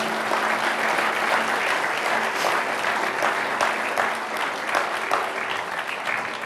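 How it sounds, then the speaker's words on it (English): An audience at a city's annual State of the City event applauds loudly and steadily, a dense wash of many hands clapping that lasts the whole stretch. "Give them a round of applause."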